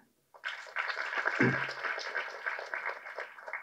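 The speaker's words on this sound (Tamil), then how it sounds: "கைத்தட்டுங்க" A school audience claps for a veterinary college doctor during the movie audio launch of School with Yogi Babu and Dhamu: a sudden burst of crowd applause, sustained and fairly loud, tapering slightly near the end.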